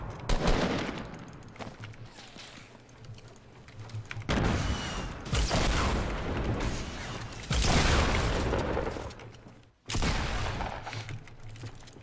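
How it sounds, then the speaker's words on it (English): Grenade blasts in Fortnite, loud bursts of explosive noise and rapid gunfire-like crackle that surge and fade in several waves, with a brief silence near the end. "Watch out for that nade."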